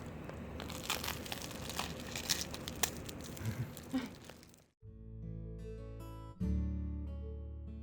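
Crisp crackling and tearing of crusty bread up close, followed by a short burst of music.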